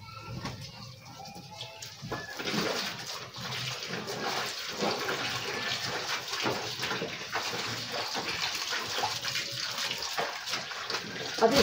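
Laundry is rinsed by hand in water, one piece at a time, giving continuous sloshing, splashing and dripping at close range with no pause.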